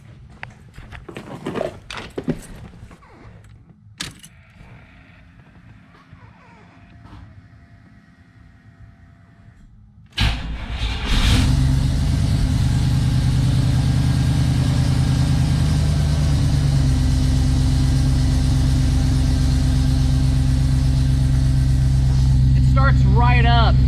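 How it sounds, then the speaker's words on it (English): A 1987 Chevy Astro van's 350 small-block V8 with Holley fuel injection cranks and catches at about ten seconds, then settles into a loud, steady idle. Quiet handling noises come before the start. "Starts right up, and I'm really happy with it."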